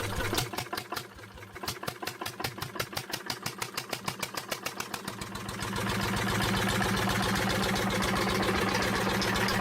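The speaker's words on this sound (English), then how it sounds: "Once running, the engine operates steadily at low revolutions" An old vintage engine of about 11 horsepower chugs with a steady, rapid rhythmic thump, then settles into a smoother, continuous low-speed running drone, loud and close.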